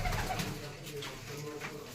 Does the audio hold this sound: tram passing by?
no